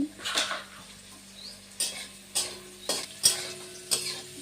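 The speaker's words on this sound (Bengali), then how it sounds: "কাজু কিশমিশ ডিম বটবটি গাজর কিশমিশ কাজু দিয়ে সব একসাথে ভালো করে ভেজে নিচ্ছি" Cashews, raisins, egg and carrot fry together for mixed rice, sizzling steadily while a spoon stirs and clinks against the pan in a regular rhythm, close and clear.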